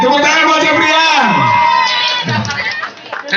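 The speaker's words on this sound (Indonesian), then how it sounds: "Tepuk tangan buat Ceprian" Cheering and shouting from a crowd greet a young boy after his song on stage, loud and close, with whoops rising over the noise before it thins out near the end.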